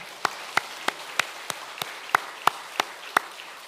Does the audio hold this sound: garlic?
no